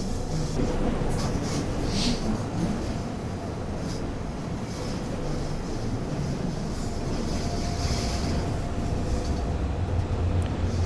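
RhB ABe 8/12 Allegra electric train rolling around a big hairpin loop, a continuous rumble of wheels and track noise heard from on board, with scattered rattles and no talk.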